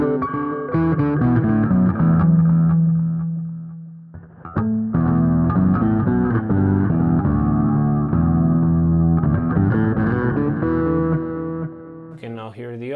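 Electric guitar played through Neural DSP Quad Cortex amp models with an octave effect and delay gives sustained, chorused distorted notes and chords, pausing briefly midway and resuming, with no voices over it.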